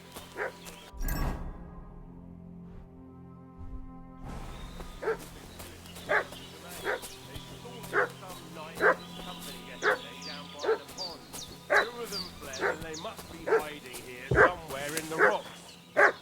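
A dog in the video game Kingdom Come: Deliverance 2 barks repeatedly in a steady rhythm, moderately close, over game music and ambience, with someone speaking briefly near the start.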